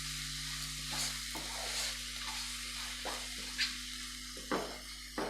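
A metal spoon is tapped against the rim of a cooking pan of softening tomatoes. Several sharp, ringing taps at irregular intervals cut through a steady, quiet sizzle and bubbling. No voices are heard.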